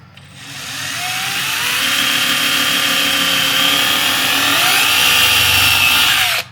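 A power drill bores holes during reassembly of a Jaguar MKII, one loud continuous whine held for about six seconds with slight pitch shifts as it bites, close and alone.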